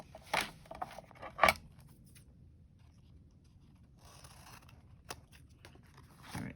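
Scissors cut a piece of paper for a junk journal in a few quiet, separate snips spread over several seconds against faint room noise.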